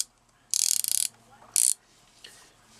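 A Pittsburgh 3/8 inch 72-tooth ratchet clicks close up in two short bursts: a rapid, fine buzzing run of about half a second, then a briefer second run, with quiet pauses around them.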